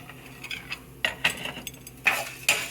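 Coriander seeds and tamarind dry-roasting in a pan, with a spatula clinking and scraping against the metal in several sharp, uneven strokes close by, no voices.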